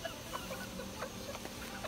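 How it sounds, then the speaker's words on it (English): Soft clucking from several chickens on a farm, short scattered calls over a low steady background hum. "Here's our newest chickens on the farm."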